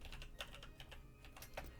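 Quick, light clicking of a computer keyboard as someone types a command, with irregular keystrokes close by and quiet, and no voices.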